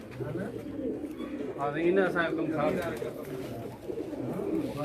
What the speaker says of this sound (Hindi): बहुत बाकमाल कबूतर हैं जी।